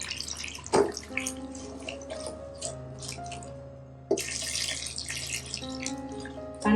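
Water poured over vegetables in a pot for pav bhaji, a steady splashing pour with drips, loud and close, with no one talking.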